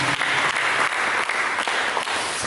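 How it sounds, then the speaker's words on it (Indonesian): A church congregation claps together in a dense, steady burst of applause that fills the room for a couple of seconds. "Berikan tepuk tangan."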